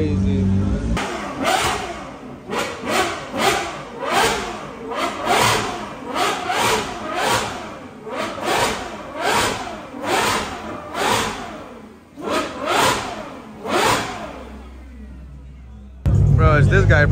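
Toyota Supra at a car meet revving hard again and again, a rhythmic series of loud, rising and falling engine bursts that continues for most of the stretch, with some crowd noise around it.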